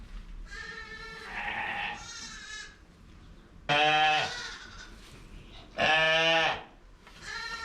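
Baby lambs and ewes bleat on a sheep farm in a string of calls, some soft and some loud and close, with two strong nearby bleats standing out over faint barn background.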